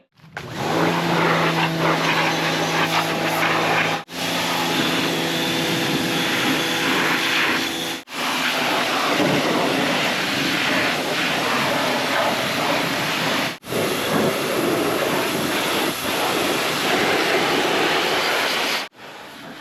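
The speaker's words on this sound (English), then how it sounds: "the first thing we'll do is go power wash this thing to work on a clean mower" Small electric power washer of about 1200 psi spraying down a John Deere zero-turn lawnmower: a loud, steady motor whine and hiss, cutting off briefly several times as the trigger is released and then resuming.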